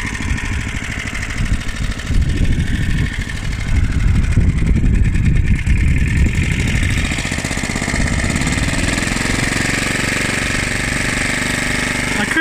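A 1976 Hayterette rotary lawnmower's petrol engine runs steadily at close range while mowing grass, a continuous throbbing drone that grows a little rougher in the middle and then settles into an even hum.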